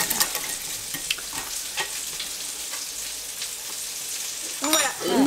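Beef meatballs fry in a pan and are stirred, making a constant close sizzle broken by scraping and clattering strokes that grow louder toward the end.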